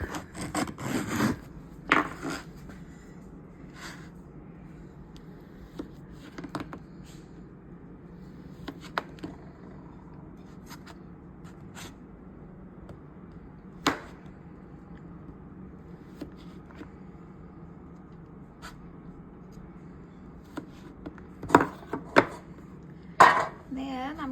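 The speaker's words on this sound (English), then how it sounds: "And just cut it into slices, like so." A knife slices fantasy fudge on a cutting board, faint scattered taps and soft cuts spaced out over a quiet background, with a small cluster of sharper knocks near the end.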